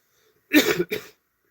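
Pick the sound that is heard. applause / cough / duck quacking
cough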